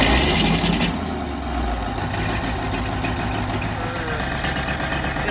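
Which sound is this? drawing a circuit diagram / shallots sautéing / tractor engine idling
tractor engine idling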